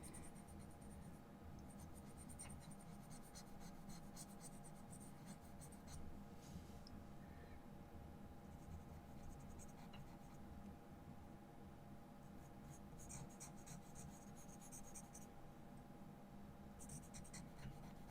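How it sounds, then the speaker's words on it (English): A sharp, soft 4B pencil shades dark areas on drawing paper, giving a steady, faint scratchy hiss of graphite strokes with a few quiet pauses, close up and without talking. "I'm going to go in with a really sharp 4B pencil, and I'm just going to go over those dark-ish shadowed areas"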